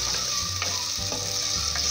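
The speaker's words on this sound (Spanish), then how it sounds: "seguimos aquí dorando nuestra cebolla" Onion sizzles and browns in a hot pan as the base seasoning for Peruvian olluquito con carne, making a loud, steady frying hiss with occasional stirring.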